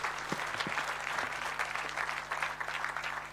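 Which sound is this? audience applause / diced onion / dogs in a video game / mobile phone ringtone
audience applause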